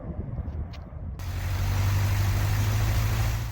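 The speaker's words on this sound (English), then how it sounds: "this engine sounds a lot like a Volkswagen Beetle, and sure enough, it's got an opposed 4-cylinder engine, which is why it has that sound" A Cessna 152's 110-horsepower opposed four-cylinder aircraft engine runs up from a quieter start, then holds a steady, loud, close droning hum with a strong low throb.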